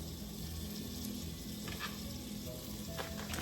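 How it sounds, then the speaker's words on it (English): A whole onion fries in olive oil in a pan, a continuous close, even sizzle with faint clinks over it and no voices. "I just put a little bit of olive oil in the pan, and here we have, I just put the whole onion."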